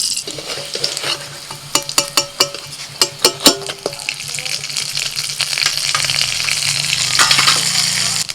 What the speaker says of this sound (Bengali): এইগুলোকে এরকম লাল লাল করে ভাজতে হবে